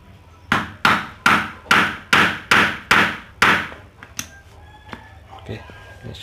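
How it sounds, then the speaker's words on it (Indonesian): A hammer strikes a used plastic bottle being holed for a kerosene lamp, eight sharp, evenly spaced, close blows followed by a few lighter taps and handling noises. "Kita palu."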